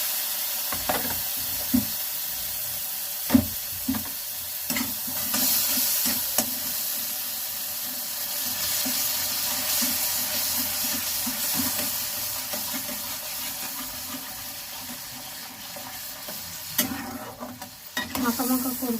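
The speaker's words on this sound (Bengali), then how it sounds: "তো আমি এবার গরম জলটা দিয়ে দেবো।" A taro-greens curry with mustard paste sizzles in a pan under repeated stirring scrapes. Near the end, hot water is poured in and sets off a louder burst of hissing and bubbling.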